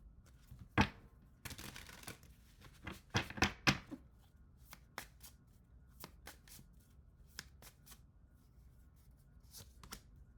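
Tarot cards shuffled by hand at close range, quiet riffling bursts and sharp flicks in irregular clusters, with no talking.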